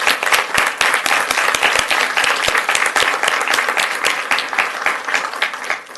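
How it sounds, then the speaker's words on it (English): An audience applauds at an evening ceremony honoring JROTC cadets, with dense, sustained clapping that is loud and close, steady throughout with no voices. "So let's give them a round of applause."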